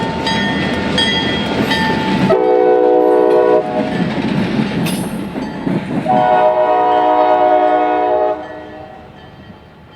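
A light Y310 freight train led by SD40-2 locomotives passes near State Line on the B&OCT, its loud chime horn sounding in long blasts over heavy rumbling and wheel noise that fades toward the end.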